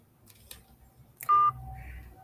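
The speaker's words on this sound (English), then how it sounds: "So we got one more phone call" A phone line lets out a steady electronic tone, with several short blips just before it, as a call comes in on a live broadcast. A low background hum and faint murmur continue under it.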